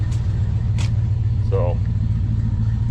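A 1978 Dodge Ram crew cab engine idling steadily, a loud continuous low rumble with a carburetor throttle fault, while someone talks briefly over it.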